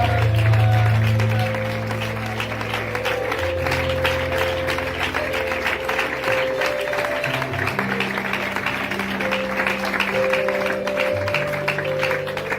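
Church congregation at an IPUC service applauding steadily for the whole stretch, the clapping blended with held organ-like tones and scattered voices.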